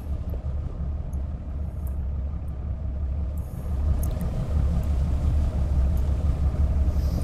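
A fishing boat engine in a North Atlantic longline fishing video game, a steady low rumble that swells slightly partway through, continuous and close with no talk.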